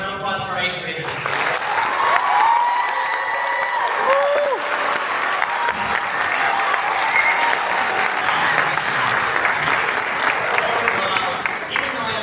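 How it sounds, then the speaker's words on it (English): Sustained applause from a crowd at a middle school orchestra concert, steady and fairly loud throughout, with scattered cheers and voices mixed into the clapping. "round of applause for our 8th graders"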